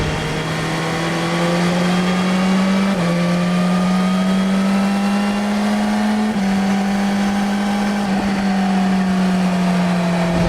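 A motorcycle engine recorded raw on a GoPro during a riding sequence, holding a loud, steady drone with small shifts in pitch and brief dips as the revs change, with no one talking.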